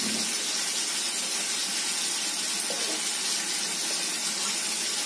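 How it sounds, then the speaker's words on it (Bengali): Water pours steadily into a cooking pot of curry on a home kitchen stove, a continuous bright splashing hiss running unbroken throughout, close and fairly loud with no voices. "ব্যাস এবার জল দেবো।"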